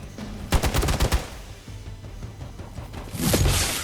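Sniper gunfire from the video game Marvel Midnight Suns: a quick volley of sharp shots in the first second, then a quieter gap and a rising whoosh near the end, with no talking.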